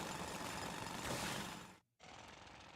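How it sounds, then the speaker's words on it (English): Underground drilling in the video game Donkey Kong Bananza roars as a dense, continuous grinding rumble, then cuts out briefly and resumes. "Alright, drill through."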